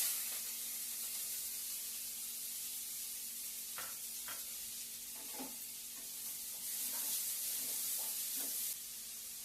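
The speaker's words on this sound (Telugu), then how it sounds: "పచ్చిమిరకాయలు వేగిపోయి ఉల్లిపాయలు వేసేస్తాం." Sliced onions and green chillies sizzle steadily in a hot pan for a raw cashew curry, a continuous hiss with a few soft stirring scrapes and clinks scattered through it.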